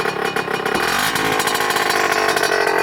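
A motorcycle engine running loud and close, a raspy steady drone with rapid firing pulses and slight throttle variation, heard alone without speech.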